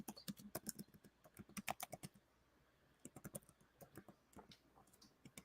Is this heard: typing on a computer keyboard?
yes